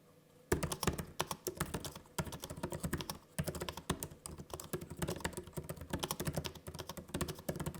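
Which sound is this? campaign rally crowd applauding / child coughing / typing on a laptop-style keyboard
typing on a laptop-style keyboard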